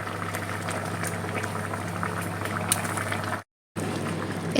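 Chicken pieces that were washed and soaked in lemon simmer in a pot, giving a steady, close bubbling and boiling sound that continues throughout, with a brief gap of silence near the end.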